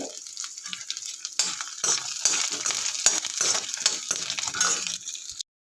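Lentils and chillies frying in oil for a pirandai thuvaiyal side dish, a close, steady crackling sizzle broken by repeated scraping stirs and light clinks of a utensil against the pan, with no voices.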